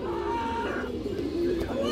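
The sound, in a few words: cooing of a young female Chuithal Kaldom pigeon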